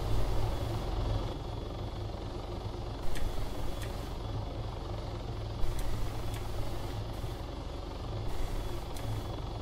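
A helicopter idles in a video game, a steady low droning rotor and engine rumble with faint clicks layered over it, with no talk.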